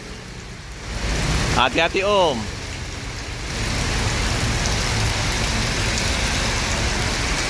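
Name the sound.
heavy rain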